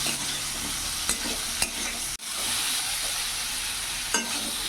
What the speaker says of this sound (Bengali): এরই মধ্যে আমি ভেজে রাখা আলু শিমগুলো দিয়ে দেবো। এবার কিছুক্ষণ আমি কষে যাব।